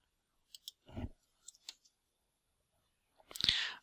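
A computer mouse clicking an on-screen Next button in monogram embroidery wizard software: a few short, crisp clicks, close and quiet, alone in a quiet room.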